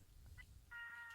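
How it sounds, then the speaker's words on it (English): Cat near a back porch, one short faint meow after some low background noise, ending in a louder drawn-out meow that is fairly close. "No, that's a cat."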